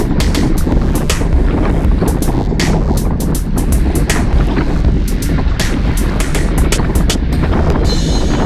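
Loud wind buffeting a microphone during a group cycling ride, in rough gusts, a constant roar with sharp bursts throughout, no speech.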